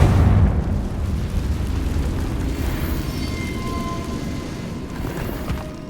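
Confringo blasting spell explosion in Hogwarts Legacy, a loud booming burst at the start that decays into a long rumbling, crackling wash of debris-like noise.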